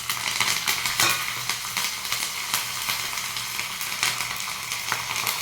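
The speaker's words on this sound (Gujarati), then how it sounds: "આ લીમડાના પાન છે સૂકા મરચાં છે વલિયારી છે અને તલ છે એ બધું આપણે એમાં એડ કરી દઈશું" Curry leaves, dried chillies, fennel seeds and sesame seeds dropped into hot oil with cumin, sizzling and crackling steadily up close, with sharp pops and a few stirring scrapes against the pan.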